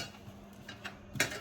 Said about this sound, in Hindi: 2 बर्तन मैं धोती